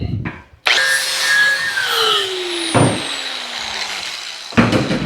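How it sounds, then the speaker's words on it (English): An angle grinder grinds metal in a workshop during a shop elevator build, giving a loud, continuous abrasive whine whose pitch slowly drops under load, briefly easing near the middle and surging again toward the end. "I'll grind that some more."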